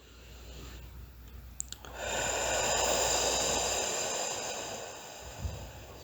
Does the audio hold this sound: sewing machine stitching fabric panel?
no